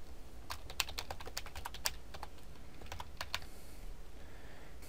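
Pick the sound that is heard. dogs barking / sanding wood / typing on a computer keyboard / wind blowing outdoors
typing on a computer keyboard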